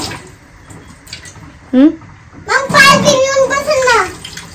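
A child washes a drinking glass at a kitchen counter, with splashing, running water and light clinks that sit under a voice and an adult speaking nearby.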